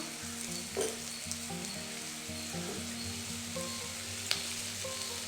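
Onions sauté in oil with salt, giving a low, quiet, continuous sizzle with occasional light stirring taps and one sharp click, and no voices.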